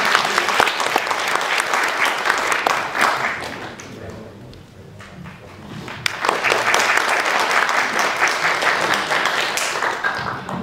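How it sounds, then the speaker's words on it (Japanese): An audience applauds performers at an Indonesian angklung concert in Kumamoto, Japan: dense, loud clapping that dips briefly midway, then surges back strong, with some voices mixed in. "そして彼らにもたくさん拍手をお願いいたします。"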